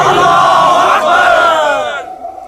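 A large crowd answers a slogan call with a loud, sustained collective shout of voices rising together, then trailing off after about two seconds.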